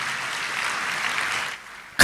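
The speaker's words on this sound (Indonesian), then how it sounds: "Yang percaya tepuk tangan buat Tuhan Yesus." A church congregation claps during a sermon, a dense, steady wash of applause that fades down around the last half-second before a sharp noise at the very end.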